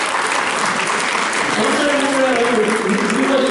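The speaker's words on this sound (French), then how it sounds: "Et on va les applaudir pour les encourager." Audience at a stage hypnosis show applauding volunteers as they come up, a loud, continuous wash of many hands clapping close by, with voices faintly mixed in underneath.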